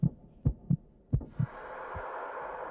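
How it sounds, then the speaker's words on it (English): Heartbeat sound effect in the Roblox game Intrusion: five or six deep, evenly spaced thumps, loud and close, with no talk over them, then giving way to a steady low hum. "Why is my heart beating like that?"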